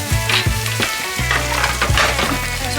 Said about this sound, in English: So we're just gonna let that simmer